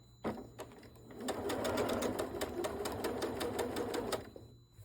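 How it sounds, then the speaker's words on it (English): Sewing machine stitching curved quilt fabric, a rapid even rattle of needle strokes in a close, steady run after a couple of slow starting stitches, stopping near the end. "set your foot back down, and keep sewing"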